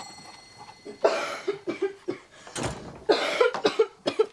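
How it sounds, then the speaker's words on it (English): Several coughs in short bursts, fairly close, with quieter gaps between them and a faint background hum. "That's a nasty cough."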